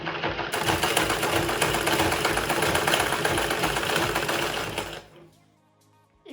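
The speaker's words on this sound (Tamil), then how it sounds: "இதை வந்து இப்படி மடிச்சுன்னு சொல்லிட்டு ஓரம் அடிக்கணும்" A tailoring sewing machine stitches a folded hem in one steady, fast run of close mechanical whirring and clatter, then stops abruptly, leaving near silence.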